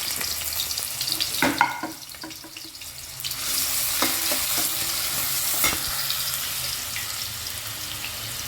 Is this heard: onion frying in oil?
yes